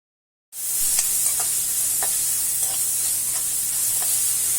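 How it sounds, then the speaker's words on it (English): Chopped onion hits hot oil in a pan and breaks into a loud, steady sizzle that carries on unbroken, with faint stirring clicks now and then. "after this I'll add this chopped onion."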